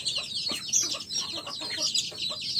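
Free-range country hens clucking around a straw-lined egg-laying box on a farm, a busy, close stream of overlapping clucks and short squawks with no talking.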